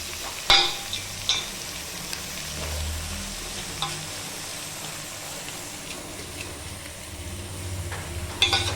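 Chopped bottle gourd (ghiya) gets stirred in a cooking pot with fried onions, soft scraping turns and a few sharp utensil knocks against the pot over a quiet, low sizzle.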